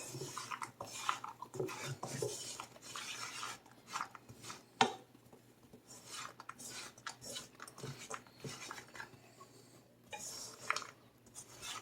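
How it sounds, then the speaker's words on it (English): Almonds scraped and stirred in caramelizing sugar in a pan, producing irregular gritty scrapes and clinks, mostly quiet with one sharp knock midway. "Just keep stirring. We're not done yet."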